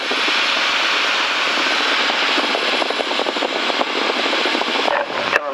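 Cirrus light aircraft engine droning in flight, a loud steady propeller-engine hum that fills the cabin without pause.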